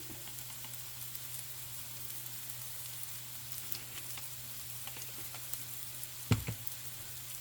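Methi balls curry masala with dry coconut powder, chili and salt sizzles quietly and steadily in a pan, a soft continuous frying hiss with a couple of sharper clatters near the end.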